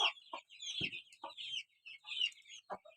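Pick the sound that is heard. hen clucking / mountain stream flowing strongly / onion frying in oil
hen clucking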